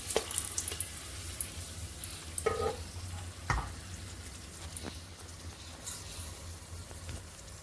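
Whole spices, cinnamon, cloves and a bay leaf, frying in a little oil on a low flame, giving a faint steady sizzle with a few scattered clinks and knocks from the pan.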